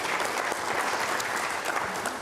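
An audience at an aviation industry panel discussion claps steadily, a dense, even wash of applause from a seated crowd filling the room.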